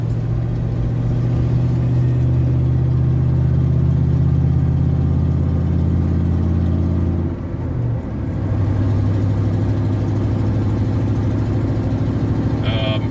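Dodge Dakota pickup engine running while driving, a loud steady rough drone with a brief dip in revs around seven seconds before settling to a constant hum.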